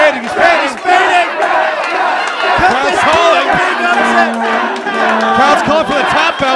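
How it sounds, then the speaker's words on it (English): Wrestling arena crowd loudly chanting and shouting for a tap out during a choke hold, a dense roar of many voices rising and falling with scattered yells throughout. "Crowd's calling for the tap out"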